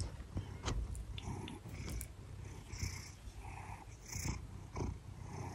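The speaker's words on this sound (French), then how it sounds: "il ronronne dès qu'il est sur le lit" A cat purrs in a low, rhythmic rumble very close by on a bed, with soft rustling and small movement sounds mixed in.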